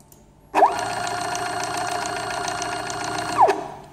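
A small stepper motor peristaltic pump whirs steadily for about three seconds, running exactly 20 revolutions, starting and stopping abruptly with a rising and falling pitch sweep at each end.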